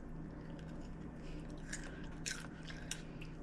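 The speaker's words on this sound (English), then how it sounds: "That one's crunchy, and it tastes good." Close bites into a crunchy, hot homemade buttered snack, with several sharp crunches and chewing sounds over a steady low background hum.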